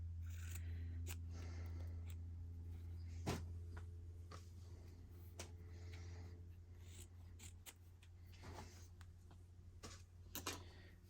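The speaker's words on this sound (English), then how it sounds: "Just going to cut a little snip of fabric here." Scissors snip a small piece of fabric, making a few faint, sharp clicks and cuts scattered over a quiet room with a low steady hum underneath.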